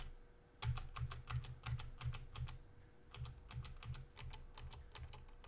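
Keys on a Commodore 64 keyboard being pressed, a rapid run of sharp, close clicks in two bursts separated by a short pause, each keystroke clear against a quiet background hum.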